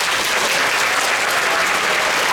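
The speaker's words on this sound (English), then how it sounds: "give yourselves a round of applause." Crowd at a physics show claps in a loud, dense, unbroken burst of applause for a couple of seconds, alone without voices.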